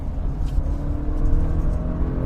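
An Acura SUV engine hums steadily and builds into a low, continuous rumble as it accelerates through a canyon, close by and without voices.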